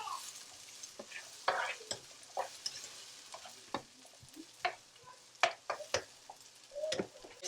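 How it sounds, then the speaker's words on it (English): Bell peppers being stir fried for jerk shrimp pasta: quiet sizzling under repeated scraping and clicking strokes of a utensil against the pan, close by and irregular. "So you just want to stir fry your bell peppers for a minute."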